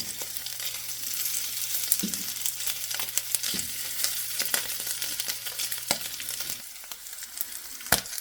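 Meat and fat frying in a pan give off a close, steady sizzle with scattered crackles and occasional utensil scrapes and taps, ending on a sharp clack.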